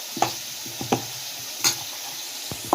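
Boiled banana flower and shrimp are mashed in a hot pan over a faint sizzle. A few sharp scrapes and taps from the utensil land irregularly, about five times, close by.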